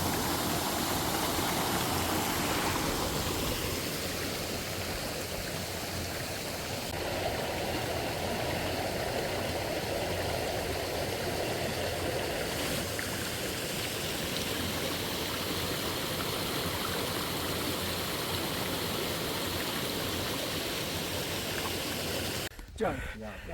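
A waterfall stream in Meghalaya rushes at the spot where the water drops, giving a loud, steady broadband roar that fills the whole stretch with no spoken voices.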